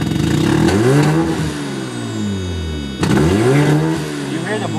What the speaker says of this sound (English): You hear the blow-off valve and everything.